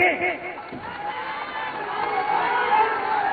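A large crowd gathered at a Bihar election campaign rally in Ramnagar, cheering and shouting steadily and continuously at moderate loudness, with no clear speech standing out.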